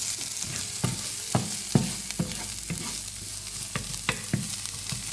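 Shallots frying in a hot pan, a steady sizzle under repeated sharp scrapes and knocks of a utensil stirring them, with no talking.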